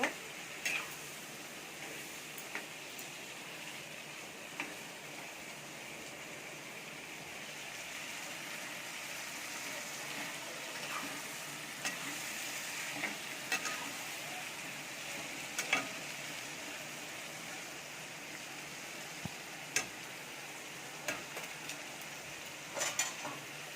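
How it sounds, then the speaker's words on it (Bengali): Chicken meat frying in a pan with cooking oil, a steady low sizzle running throughout while a utensil stirs and scrapes with occasional sharp clicks, moderately quiet and close, with no talking. "মাংসটা ভাজা হয়ে গেছে, এখন ঢাকনা দিয়ে ঢেকে দিব।"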